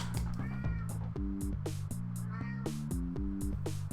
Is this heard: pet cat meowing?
yes